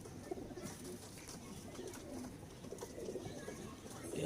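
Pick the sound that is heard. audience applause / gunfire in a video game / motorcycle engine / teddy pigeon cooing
teddy pigeon cooing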